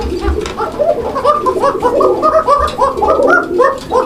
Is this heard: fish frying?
no